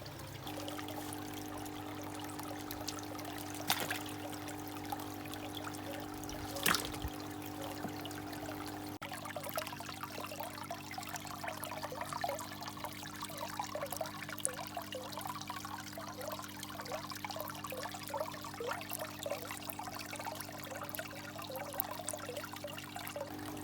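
Water trickles steadily into a 500 litre garden pond sunk into a hardwood sleeper frame, a soft continuous flow with a faint background hum.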